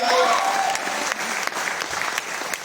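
A room full of people at a company training event claps steadily, a dense patter of applause with a few louder individual claps standing out.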